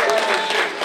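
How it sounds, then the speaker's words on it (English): Audience applause at a community launch and fundraising gathering, a dense wash of clapping filling the short moment, steady and fairly loud with no break. "Clap for Jesus."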